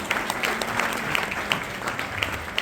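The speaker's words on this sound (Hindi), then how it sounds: "एक बार जोरदार ताली" Loud applause from an audience at an event honouring a guest speaker, dense continuous clapping with a few sharper claps standing out, close and filling the room.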